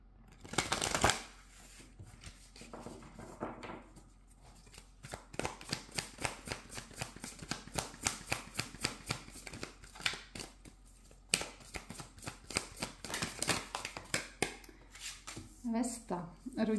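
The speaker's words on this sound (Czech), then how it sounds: "Pojďme na výklad karet." Rapid riffling and slapping of tarot cards being shuffled, a dense run of crisp clicks repeated over and over, close by, with a voice talking briefly at the end.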